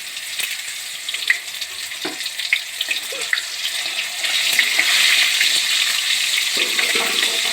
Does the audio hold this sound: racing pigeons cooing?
no